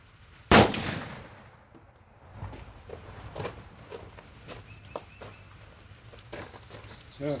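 Heavy muzzleloading chunk gun fires one sharp, loud blast near the start, followed by a fading rumble and then quiet outdoor shuffling and faint knocks.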